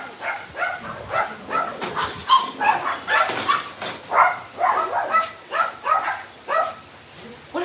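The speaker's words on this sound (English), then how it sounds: "I gotta get the dogs here." Dogs bark in a rapid, repeated volley close by in a family home during a Sunday bingo game, sharp yaps and yips tumbling over each other with some voices mixed in.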